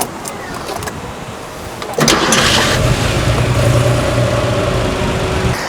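The 3.2-litre engine of a Porsche 911 GTS T-Hybrid cranks briefly, then catches with a loud, sudden bark and settles into a steady, close idle.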